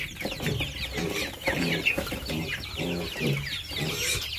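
Chickens on a farm cluck and chatter in a busy, close group, with scattered rustling and knocks of feeding troughs being handled.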